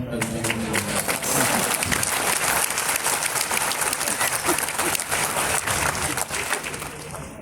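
An audience at a comedy poetry recital bursts into applause, a broad sustained clapping from a large crowd that holds strong for several seconds and then begins to thin out near the end.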